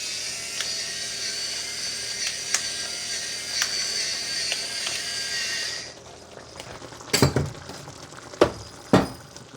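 Pan gravy for smoked chicken being whisked, a steady scraping and clinking of metal against the pan for about six seconds, then quieter with a few sharp louder clinks near the end.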